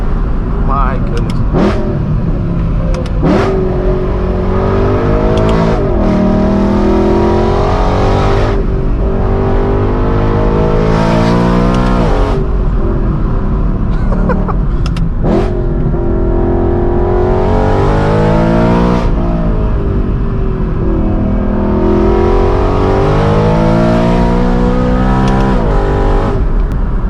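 Straight-piped, Gintani-tuned BMW M3 E92 V8 revs repeatedly, loud and raspy, each rev climbing sharply before crackling back down, in continuous bursts with occasional voices underneath.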